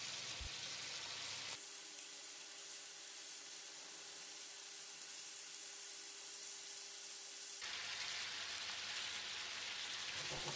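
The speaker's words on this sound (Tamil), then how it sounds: "இப்போ இதை திருப்பி போட்டு மறுபடியும் வேக விட்டுடலாம்." Chicken pieces for a Tamil-style chicken fry, cooking in a covered pan over a moderate flame, give a continuous faint hiss like light rain. The tone shifts abruptly twice, becoming duller in the middle stretch, and no one speaks.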